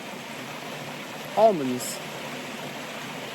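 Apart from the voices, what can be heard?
stream of water flowing under a road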